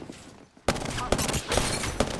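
Gunfire in the video game Apex Legends: dense, loud bursts of automatic fire that erupt after a short quiet moment and roll on continuously, with sharp peaks among the shots.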